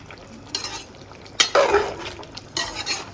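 A spoon stirs curry in a metal pot on a village stove, giving a few scraping, clinking strokes in short bursts, close and fairly loud.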